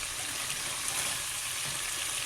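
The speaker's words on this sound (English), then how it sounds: "now I'm going to start frying or semi-fry the gizzard" Gizzard pieces semi-frying in hot palm oil give a steady, soft sizzle that stays even throughout, with no voices.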